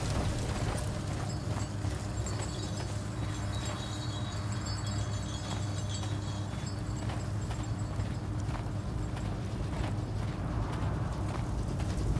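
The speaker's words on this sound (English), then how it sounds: "Horse of Pedro Alvarado." Horse hooves clip-clop steadily along a street in a Sherlock Holmes video game, a continuous rhythmic trot heard up close over a mechanical background hum, with no talking.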